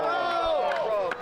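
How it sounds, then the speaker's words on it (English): A loud ringside crowd at an independent wrestling match cheers and roars in one dense, sustained burst of many voices, with sharp whoops rising above the din. "Incredibly loud ringside crowd here brought it to the ref's attention"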